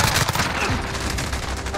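Rapid automatic gunfire in Modern Warfare, apparently an MP5 submachine gun, a dense loud burst of shots rattling continuously over a noisy game background.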